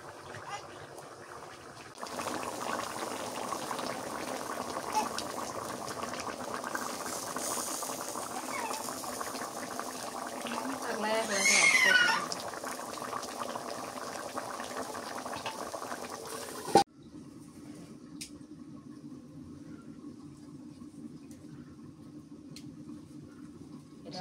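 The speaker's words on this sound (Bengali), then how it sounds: "তরকারিটা বলক উঠে গেছে" Chitol fish curry bubbling at a rolling boil in a pan, a steady simmering hiss and bubble that swells briefly, then drops off abruptly to a quieter background hum.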